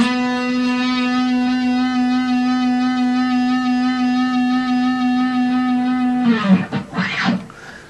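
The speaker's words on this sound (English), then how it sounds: "Nice, slow, and good vibrato sounds something like this." A clean electric guitar holds a sustained note with slow, even vibrato for about six seconds, then a few shorter picked notes follow.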